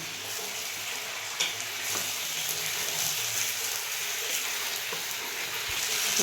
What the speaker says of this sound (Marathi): छान परतत आला आपला कांदा